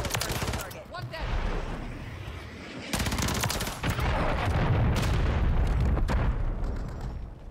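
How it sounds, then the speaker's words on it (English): A cruise missile strike in Call of Duty: Modern Warfare 3 multiplayer hits with a heavy, booming, rumbling blast that swells and lingers for several seconds, amid bursts of machine gun fire and scattered gunshots. "Friendly cruise missile"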